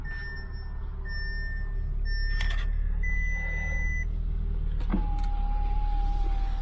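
A 2015 Audi S3 8V with over 200,000 km idles steadily just after starting, a constant low engine drone under a few short electronic dashboard beeps and chimes, with no talking.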